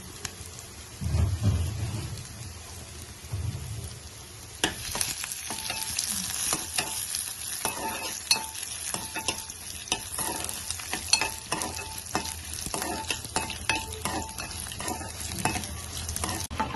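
Garlic is fried in a pan for tempering. A few seconds of low rumble give way to a loud, continuous sizzle with frequent clicks and scrapes of stirring, close and without talk.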